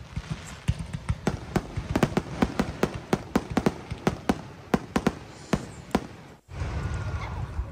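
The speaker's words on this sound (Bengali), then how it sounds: "এই যে আতশবাজিগুলো ফাটানো হচ্ছে এটা 30 মিনিট সময় ধরে চলবে" Fireworks at an Independence Day show in the USA pop and crack in a rapid, irregular series of sharp distant bangs over crowd ambience, with a brief cutoff near the end.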